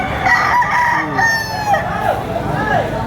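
A fighting rooster crows loudly and close by at a market in Padre Garcia, Batangas, its call stretching across the clip over a noisy outdoor background of murmuring and other birds.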